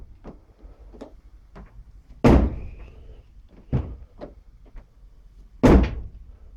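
Carbon fiber passenger door on a Mitsubishi Eclipse opened and shut in a test: two solid thuds a few seconds apart, close and loud, with lighter clicks, taps and latch sounds between them.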